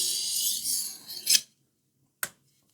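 A knife blade is flipped and drawn once across a sharpening stone to take off the burr, giving a loud, close rasping stroke of about a second and a half, then silence and one short scrape.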